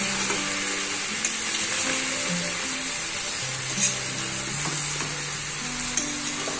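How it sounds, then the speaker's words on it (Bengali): Vegetables fry with a fish spice paste of ginger, garlic, onion, chilli and turmeric, a loud, dense sizzle close up while a spatula stirs and scrapes the pan in irregular strokes. "এটাকে এখন একটু নাড়ানাড়ি করে তারপরে কিছুক্ষণ ঢেকে রেখে দেবো সবজিটা গলে যাওয়া অবধি"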